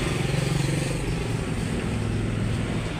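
Several Honda Click and Yamaha Mio motorcycles idle together, a loud, steady low engine drone with a fine rhythmic pulse, close by and without talking.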